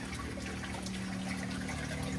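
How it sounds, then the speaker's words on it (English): Two return pumps in a Trigger Systems Sapphire CR44 aquarium sump keep up a steady, faint churn of moving water with a low constant hum under it, close by and unbroken, with no voices. "I've got 2 pumps in here that then pump up and go out to returns that are in the back of the tank"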